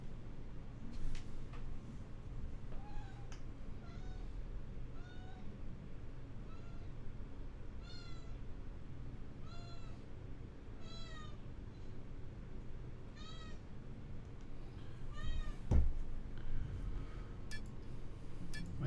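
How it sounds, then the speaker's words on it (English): A pet cat meows repeatedly in a home office, making a series of distinct, close meows spaced a second or two apart over a quiet background, with a short knock near the end. "My cat's in my office, meowing at me like the pain in the ass that she is."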